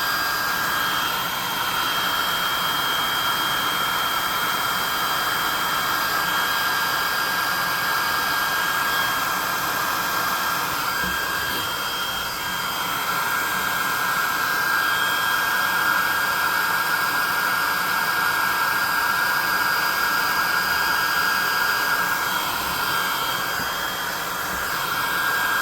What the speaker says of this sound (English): use a lower setting to dry your paint